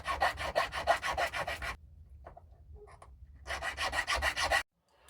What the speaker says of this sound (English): So I need to fix that with my flat file.